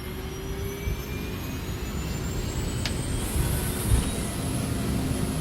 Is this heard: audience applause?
no